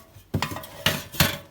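Metal kettles with lids clank and clink as they are handled, with several sharp knocks in an irregular sequence, close and fairly loud.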